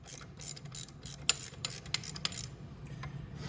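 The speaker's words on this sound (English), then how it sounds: "Now, we can loosen these, and these are just a 13 mil nut." A ratchet wrench loosening 13 mm nuts on the motor mount of a Venom E-Madix 1300w electric ATV, with quick bursts of rapid clicking and rasping, close up and without talk, fading out near the end.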